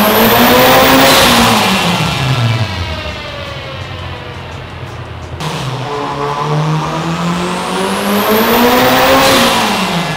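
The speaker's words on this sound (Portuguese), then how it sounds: "Vamos embora pro dinamômetro aqui da Hard Garage, ver quanto tem de torque e potência esse golzinho CL91" A VW Gol CL 1991 with a turbocharged AP engine revs hard on a dynamometer, its pitch sweeping up, dropping sharply, then climbing again in a loud, close, continuous roar with no talking.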